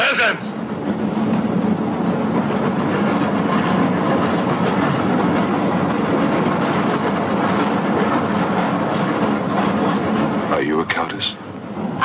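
A train from the film Horror Express rumbles steadily along the rails, a continuous loud rolling roar with faint clatter throughout and a brief squeal near the end; people talk faintly over it.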